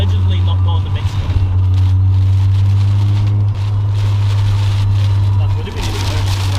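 Heavy rain drums on a Mazda RX-7 FC while it drives, under a loud, steady low engine and road drone with a broad hiss of water. Voices talk over it throughout.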